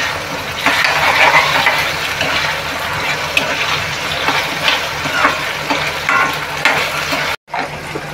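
Potatoes, washed and left unpeeled, sautéing in a pan for Malvani clam curry, a steady close sizzle and frying crackle with occasional stirring scrapes, running continuously before a brief drop near the end.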